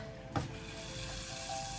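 Melting chocolate sizzles and crackles in a pan as it starts to burn, a faint, steady frying hiss with one brief sharper pop near the start.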